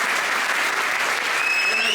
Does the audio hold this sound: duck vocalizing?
no